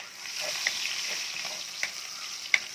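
Onion dropped onto garlic frying in a pan for callos, a soft steady sizzle with a few light clicks and taps of a utensil, close but moderate in level, no talking.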